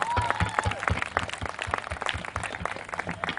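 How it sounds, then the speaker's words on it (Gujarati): A crowd at a public event applauds the volunteers with moderately loud, uneven clapping and a brief whistle-like tone near the start. "જોરદાર તાળીઓ વોલેન્ટિયર્સ માટે"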